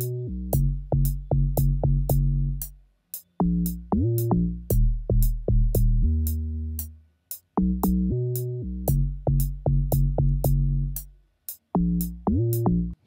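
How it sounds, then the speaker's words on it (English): Log drum bass in an Afrobeats-style beat plays alone: short, punchy, pitched hits in a syncopated pattern, some notes sliding in pitch, with brief gaps between phrases. "The first bass sound is a log drum and it sounds like this."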